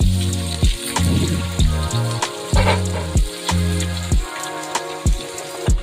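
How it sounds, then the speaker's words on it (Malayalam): Sliced onions frying in hot oil, salted, for a village-style chicken curry, make a continuous crackling sizzle that sits under louder rhythmic background music. "ചൂടായ എണ്ണയിലേക്ക് നമുക്ക് ഉള്ളി ഇട്ട് കൊടുക്കാം."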